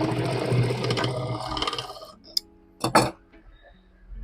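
Sewing machine stitching the corner of a fabric bag, a short burst of running stitches up close followed by a few sharp clicks and handling knocks, then near quiet.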